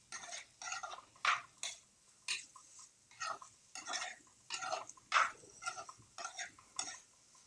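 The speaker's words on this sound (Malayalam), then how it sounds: "വഴറ്റി കൊടുക്കാം." Carrot and tomato curry sautéing in a pan, heard as regular bursts of stirring and utensil scraping with light clinks against the pan, steady and close, with no talking.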